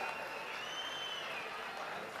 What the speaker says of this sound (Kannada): ಒಂದ್ ದೊಡ್ಡ ಚಪ್ಪಾಳೆ ಬರಬೇಕು ನಮ್ಮ ಇಡೀ 45 ಚಿತ್ರದ ತಂಡಕ್ಕೆ ಪ್ಲೀಸ್